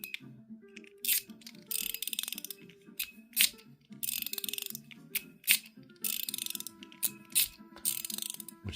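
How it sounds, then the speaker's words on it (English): A three-level LXEDC Demon King mechanical slider fidget toy clicks in quick ratcheting bursts, with repeated sharp detent clicks in short runs separated by brief pauses, close and moderately loud with no talking. "it does go backwards, but it only goes backwards 2 clicks per level"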